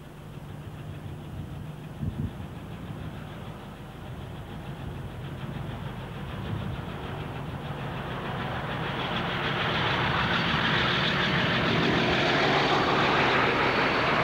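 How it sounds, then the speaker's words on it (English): British Rail Class 27 diesel locomotive 27012 hauls a Dundee to Edinburgh train in Scotland, its engine drone and rumble rising steadily as it approaches and grows louder, with no talk. "This is Class 27, number 27012, on a Dundee to Edinburgh train south of Mark Inch."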